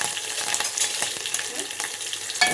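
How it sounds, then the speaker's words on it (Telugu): Green chillies sizzle and fry in hot oil in a pan while being stirred, a steady close crackle with scraping stir strokes throughout and no talking. "పచ్చిమిర్చి కూడా వేయాలి పచ్చిమిర్చి కూడా వేసుకోవాలి వేసుకొని మంచి కలపాలి"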